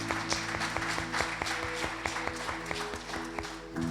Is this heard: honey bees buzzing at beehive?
no